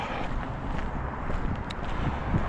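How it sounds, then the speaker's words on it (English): Steady wind blowing across the microphone, a continuous low rumble and hiss with no pauses or voices. "The wind is not as bad as it was, but it is breezy."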